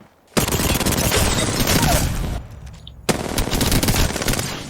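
Video game gunfire crackles in dense, rapid automatic bursts, loud and close, breaking off for a moment before another sustained volley of shots resumes.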